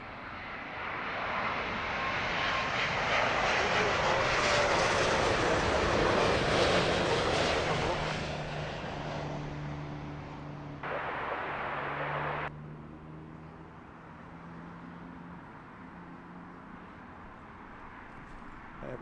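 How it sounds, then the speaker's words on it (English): An aircraft on approach at London Heathrow Airport roars overhead, building to a loud broad rumble. Then it fades into a steadier distant drone as it passes. "We've got a lovely workhorse DHL on approach now."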